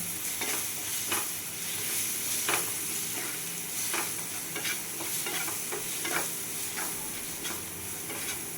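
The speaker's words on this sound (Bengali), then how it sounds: "জল দেবো আর নাড়াতে থাকবো।" Semolina pulao is stirred steadily in a pan with water added a little at a time, giving a continuous sizzle broken by repeated scraping strokes of the spoon, close and steady with no talk.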